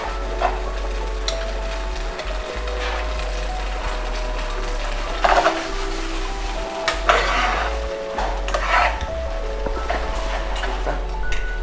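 Linguine being stirred through béchamel sauce in a hot pan, giving a continuous close sizzle with periodic scraping strokes and a few sharp metallic clinks against the pan, all under a low steady hum.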